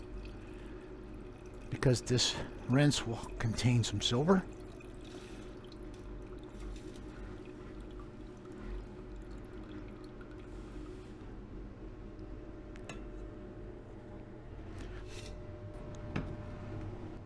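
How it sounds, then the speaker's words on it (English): Rinse water from silver refining poured into a beaker holding a piece of copper: a short splashing, trickling pour lasting a couple of seconds, then quiet with faint drips while someone talks. "now what we'll do is pour this rinse off into our beaker that has our piece of copper in it"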